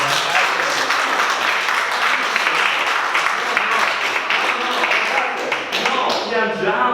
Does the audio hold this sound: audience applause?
yes